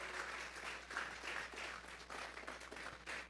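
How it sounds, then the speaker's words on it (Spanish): Church congregation gives a round of applause during a sermon, a fairly quiet but continuous patter of many hands clapping with slight surges, heard alone without speech. "Vamos a regalarle ofrenda de palmas al Dios de la gloria"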